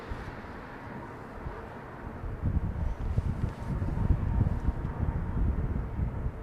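An airliner lands at London Heathrow in a crosswind, arriving from Tokyo: a broad, steady low roar that grows louder and heavier toward the middle and stays rumbling, with a wind-like wash over it and no talk.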